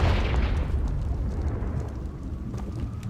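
Confringo fire spell explosion in Hogwarts Legacy, a loud rumbling blast that fades slowly into a low roar over three seconds, with no talk.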